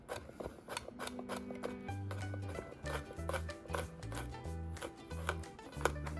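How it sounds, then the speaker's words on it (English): Blistered green beans being cut, Italian style, a quick series of soft crisp knife chops and snips against a board, faint and close, with no talking. "I'm just gonna cut down through again."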